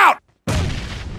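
One loud grenade explosion in PUBG Mobile bursts in after a brief silence and leaves a rumbling tail of about a second.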